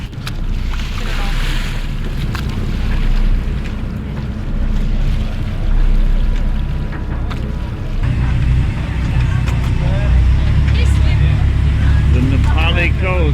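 A boat motors across the open sea off the Na Pali coast of Hawaii, its steady low engine rumble mixed with wind buffeting the microphone and splashing water, continuous and loud throughout.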